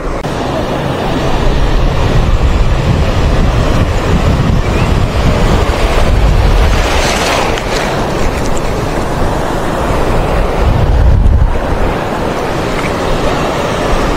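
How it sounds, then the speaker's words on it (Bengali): Bay of Bengal sea waves breaking near the shore, a continuous loud roaring surf with swelling crashes, heavily buffeted by wind noise on the microphone. "দেখুন বঙ্গোপসাগরের ঢেউ, সত্যি অনেক সুন্দর লাগছে।"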